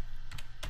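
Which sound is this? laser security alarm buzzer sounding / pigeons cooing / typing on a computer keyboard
typing on a computer keyboard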